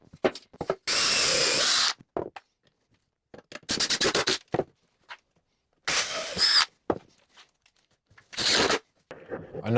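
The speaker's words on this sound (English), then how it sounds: "I'm pre-drilling into the end grain on the sides to avoid splitting the wood" A power drill whirs in several short bursts, pre-drilling into the end grain of scrap wood, stopping and starting, with quiet handling noises and shuffling between runs.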